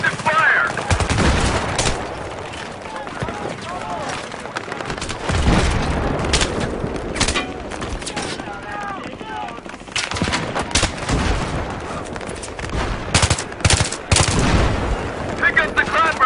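Suppressive gunfire in the video game Battlefield 3, with loud bursts of automatic rifle and machine-gun fire, scattered booms and battle noise, and voices calling out in between.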